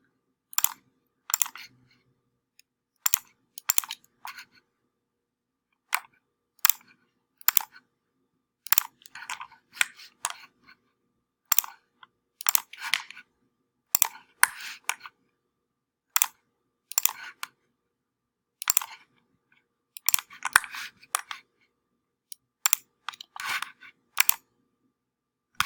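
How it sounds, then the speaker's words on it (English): Computer mouse clicks while drawing a CAD sketch of a finger joint box, sharp isolated clicks near the microphone coming singly and in quick pairs or bursts, separated by silent gaps. "it is going to be just a lot of clicking to make that happen"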